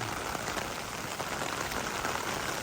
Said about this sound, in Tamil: ஆமாம் கொட்டுது மழை